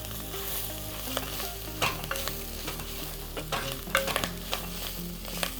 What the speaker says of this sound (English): That popping sound is where that fried baby clams are happening